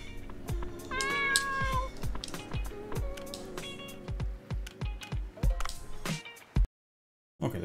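A cat meows again and again in the video game Dave the Diver, its repeated clear, close, tonal cries sounding alone over a light patter of taps before a brief dropout near the end.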